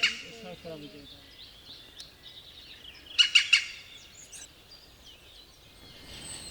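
Wild birds calling outdoors, mostly males, with a few scattered chirps and a brief cluster of sharp, bright notes midway, fairly faint against a quiet background.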